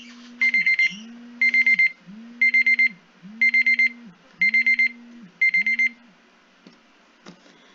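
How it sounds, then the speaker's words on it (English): An alarm timer goes off in six evenly spaced bursts of rapid beeping over a low repeating tone, loud and close, then falls silent. "That was my alarm."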